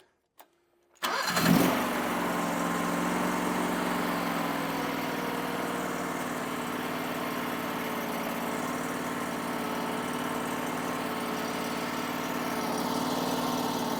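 A Powerease R740D generator with fuel problems starts after a few faint clicks, firing up abruptly with a brief surge and then settling into a steady, even engine drone that runs on close by without talk.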